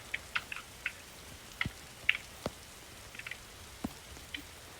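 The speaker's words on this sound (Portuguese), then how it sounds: "Tá chovendo, né?" Game rain in a forest survival game, sparse drips and light ticks of raindrops landing on a surface at an uneven pace over a quiet, soft background wash.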